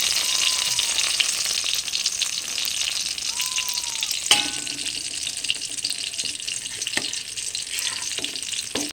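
Brinjal slices frying to a deep red in hot oil give a steady, dense sizzle throughout, with a couple of faint whistling tones early on and a few light clinks of utensils near the middle and end.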